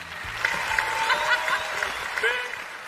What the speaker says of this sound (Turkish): Kendisi için büyük bir alkış rica ediyorum.